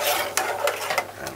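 Peanut porridge with coconut milk and vanilla stirred in a pot on a low stove, a steady wet scraping swirl with a few sharper spoon strokes against the pot, close up.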